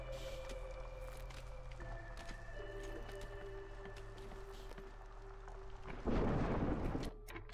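A crack of thunder erupts briefly and loudly in the fantasy city-building game Against the Storm, rising over a steady bed of game ambience and soft tonal music before fading.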